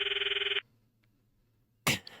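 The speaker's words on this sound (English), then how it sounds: "I stop the video and call Mayuri's phone from my address book." Phone ringing during a call in the video game Steins;Gate: a loud, rapid pulsing electronic ring for about half a second, then near silence, then a short burst of noise.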